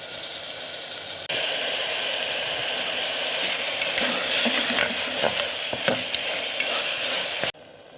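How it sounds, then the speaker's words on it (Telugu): Onions frying in a little oil for a pressure cooker chicken curry, a steady close sizzle that swells suddenly, with intermittent scraping and tapping of stirring before it cuts off. "కొంచెం ఆయిల్లో బాగా వేగాలండి"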